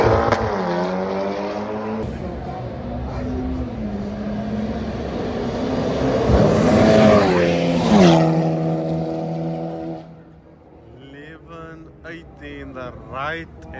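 Drag racing cars launching and accelerating hard down the strip, loud engine roars rising through the gears with a peak midway, then fading before another car revs up, with people talking over the noise.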